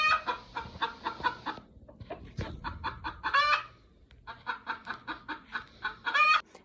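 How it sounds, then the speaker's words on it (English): A hen, a green egg layer on a homestead, sings her egg-laying song outdoors: loud, repeated rhythmic clucks and rising squawks in steady bursts, close to the listener with no talking. "Bean was just outside doing her chicken song"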